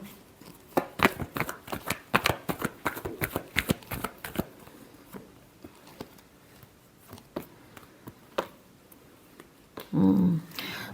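A deck of tarot cards shuffled in a quick burst of close, crisp riffles that slow into a few scattered taps, followed near the end by a short low thump or rustle.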